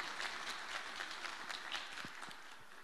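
Audience applauding at a formal Elazığ gastronomy event honouring officials, a steady, fairly faint patter of clapping running throughout with no voices over it.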